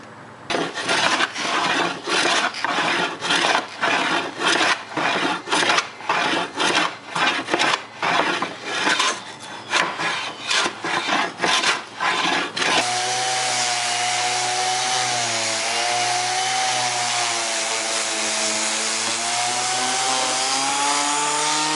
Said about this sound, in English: And refurbishing that, gonna sand it up, and it'll look nice when it's done.